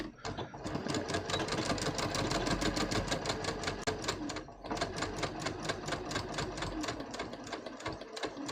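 A sewing machine stitches a dart in a bias-cut top, a close rapid mechanical needle chatter running in bursts with a short pause midway before resuming at a steady pace.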